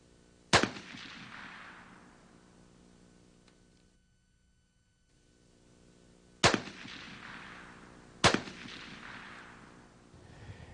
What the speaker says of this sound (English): what I would like to do next is to shoot the rifle into our original group